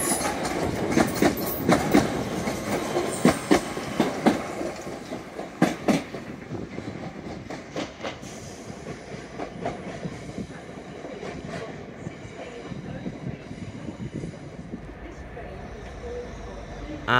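Several British Rail Class 197 diesel multiple units pulling into Manchester Piccadilly station, a continuous rumble with rhythmic wheel clatter and occasional clanks, loud and close, with people talking faintly over the top.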